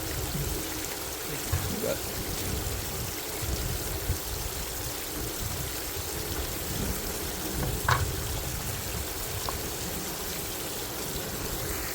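Water runs steadily through a sluice box processing hillside paydirt, a continuous moderate outdoor stream-like rush with a few brief knocks, while people speak faintly in the background.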